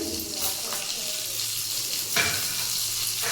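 Mustard seeds, cumin and dried red chillies frying in hot oil for a village-style greens curry, a steady bright sizzle with a few light stirring scrapes and a brief louder crackle near the end.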